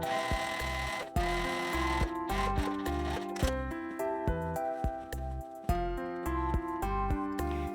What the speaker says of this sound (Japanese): 箱布の裏側を縫っていきます。